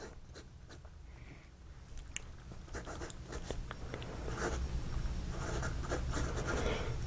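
A vintage FACSEN fountain pen from the 1930s, made by OMAS, writes on paper with a steady run of faint scratchy strokes and short pauses. The nib sounds close and quiet.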